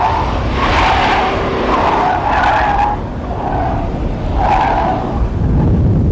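Tires on a 150-horsepower Mercedes station wagon skid and squeal loudly in repeated bursts as the car swerves through a slalom handling test, with steady car noise continuing between the squeals.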